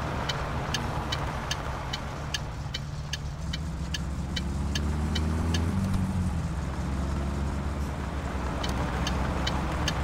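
A car engine drones steadily while driving in the video game My Summer Car, a low continuous hum that rises slightly in pitch midway, with faint regular ticking above it and no talking.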